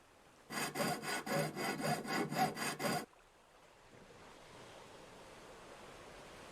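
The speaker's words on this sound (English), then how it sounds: "we've got something we can use a saw on" Steady back-and-forth strokes of a hand saw cutting through a piece in Ship Graveyard Simulator, about nine rhythmic rasps close up, then stopping and leaving a low ambient wind and surf bed.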